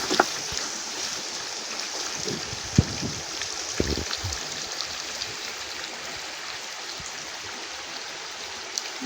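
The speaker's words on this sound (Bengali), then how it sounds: "এখন আমরা এর ভিতরে দিয়ে দেব পানি।" Warm water is poured into a pot of simmering beef and potato curry, a continuous splashing, gurgling pour with a few soft knocks of a pot or utensil, close and without talk.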